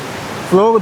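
A waterfall along a trekking trail near Melbourne gives a steady, close broadband rush of falling water, and a voice begins over it in the last moment.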